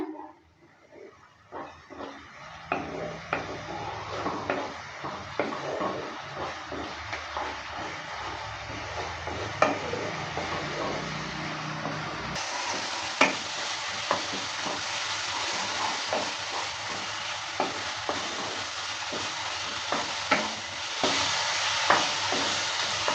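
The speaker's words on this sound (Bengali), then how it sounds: "জলটা দেওয়ার পর ভালো করে আবারও নেড়ে চেড়ে নিচ্ছে" Spice masala with water sizzling and frying steadily in a pan while being stirred, with scraping clicks and taps throughout, loud and close, no voices.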